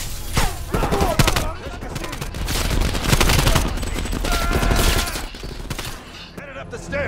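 Gunfire from Call of Duty Cold War crackles in dense, rapid automatic bursts that run nearly the whole time, loud and close, with a player's voice talking in over the shooting now and then.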